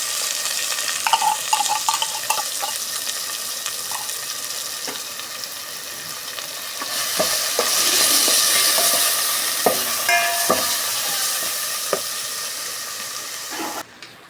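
Corned beef sautés in a pan for macaroni soup, a continuous bright sizzle and hiss with intermittent scraping stirs and soft clinks of a utensil, swelling louder near the middle before settling.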